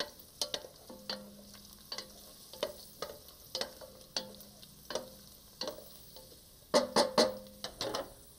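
Garlic frying golden brown in a pan for soup, a soft sizzle broken by regular scrapes of a utensil stirring roughly once a second, close and alone.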